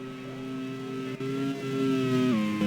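A race car in a Nürburgring Grand Prix race screams past, a high engine note holding pitch then dropping as it shifts gear, fairly loud and steady, with no voices.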